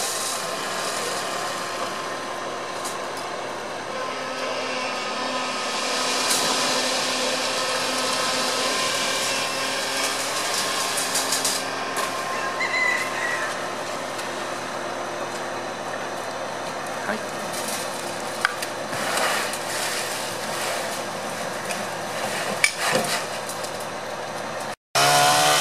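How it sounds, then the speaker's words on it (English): A petrol-engine concrete vibrator runs steadily while a home slab is poured, its loud continuous buzzing drone filling the whole stretch with little change in pitch until it cuts off abruptly near the end. "Get the petrol vibrator going and get the moisture out of the holes."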